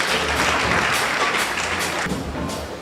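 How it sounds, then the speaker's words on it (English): An audience at a physiotherapy induction ceremony applauds, a dense, steady crowd clapping that carries on for several seconds and eases off slightly toward the end, with no speech over it. "A round of applause for him."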